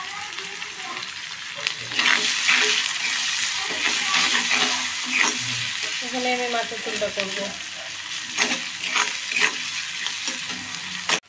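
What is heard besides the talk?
onion and green chili frying in hot oil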